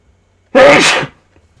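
A single loud, close sneeze bursts out sharply and fades within half a second, with near silence before and after.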